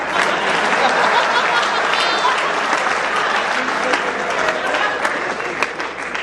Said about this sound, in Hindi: इस लाइन पर तालियां बजाइए, अच्छी लाइन थी।